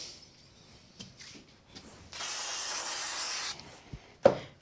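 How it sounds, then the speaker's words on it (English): Spray glue hisses onto card in one steady burst of about a second and a half, close and fairly loud, with light handling rubs and taps before and after. "I'm going to use a little bit of spray glue"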